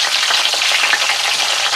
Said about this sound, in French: On fait cuire nos lamelles d'aubergine